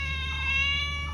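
A cat meows close by in a home kitchen where fish is being cooked with water gourd, one steady, drawn-out tonal cry lasting about a second with no talk.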